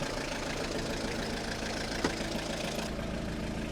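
A BMW car engine idles with a steady, continuous low drone and mechanical rumble, held at a constant level throughout with no voices.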